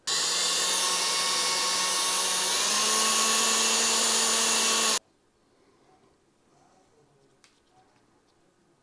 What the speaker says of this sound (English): we'll need to drill to match the gauge of the wire that you've chosen to use